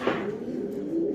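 A single pigeon at a Valencian pigeon loft cooing close by, one low throaty coo that swells and holds for about a second, alone with faint background hiss.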